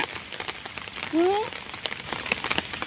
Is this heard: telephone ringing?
no